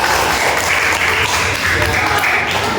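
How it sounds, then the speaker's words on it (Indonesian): Classroom audience applauds a boys' group during an Islamic religious education lesson, steady dense clapping filling the whole moment with a murmur of voices underneath. "Beri tepuk tangan buat kelompok putra."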